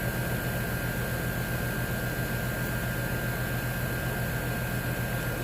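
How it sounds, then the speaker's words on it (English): Steady, loud broadband hum and whoosh of a nearby air conditioner running right beside an indoor room, constant for the whole stretch with no other sounds. "Sorry about the loud noise. We're like right next to my air conditioner."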